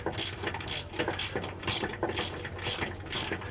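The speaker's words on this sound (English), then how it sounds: "What I do when I'm using my ratcheting wrench" A ratcheting wrench snugs down bolts on SumoSprings Rebel helper springs on a 2020 Thor Winds RV, giving a quick, steady run of close, crisp ratchet clicks in repeated bursts with no talk.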